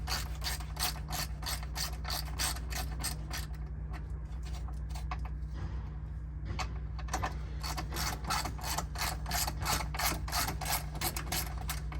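Rapid ratchet clicking as bolts are undone on a BMW E60 M5 during an air-con condenser replacement, repeated bursts of close, sharp pawl ticks with a short pause midway over a steady low hum.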